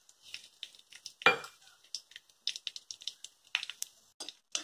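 Fennel seed, bay leaf, cinnamon, star anise, cloves, cardamom and mace sizzle in hot oil, with sharp crackling pops in an irregular patter close by.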